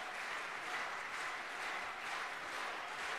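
A crowd at a large political rally applauds guests being introduced, a continuous, even wash of clapping throughout.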